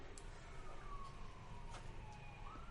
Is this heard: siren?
yes